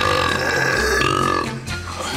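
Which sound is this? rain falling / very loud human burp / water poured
very loud human burp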